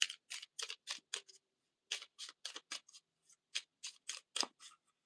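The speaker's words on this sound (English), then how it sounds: "Here is the location cards. We're going to give that a shuffle." Minecraft Explorers location cards are shuffled close by in quick, quiet papery bursts, with one group of riffles, a short pause, then another run.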